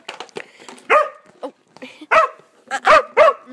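A playful dog barks in short sharp bursts, several loud close yips and woofs spaced unevenly, with whimpery sounds between them and no talking.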